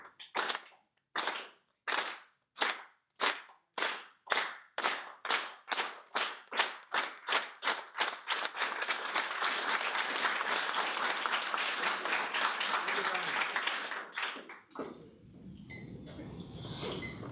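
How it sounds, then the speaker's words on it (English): Board meeting audience performing a unity clap: single slow claps evenly spaced that steadily quicken and build into continuous applause, then cut off as a voice speaks. "I really want to end this with a clap of unity"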